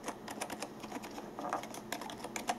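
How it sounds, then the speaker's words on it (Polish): Keys clatter in quick, uneven bursts on a Tesoro Lobera gaming keyboard with plunger-style switches, a soft, muted clicking heard close and fairly quiet, without any talk. "Taki delikatny klik i ciśnięcie przypomina przełączniki Cherry MX Black."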